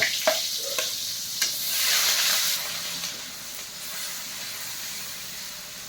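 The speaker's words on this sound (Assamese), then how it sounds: "এতিয়া বিলাহী ভাজোঁ এই মছলা পাতি দি লওঁ" Tomatoes fry with fish masala in a pan, giving a steady sizzling hiss that swells after a few stirring clatters early on, then settles into a softer, continuous crackle.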